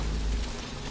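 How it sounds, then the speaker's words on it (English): Steady rain pours in the Metal Gear Solid 5: Ground Zeroes video game, a dense, even hiss of drops with a low rumble underneath, continuous and fairly loud with no voices. "That rain just won't let up."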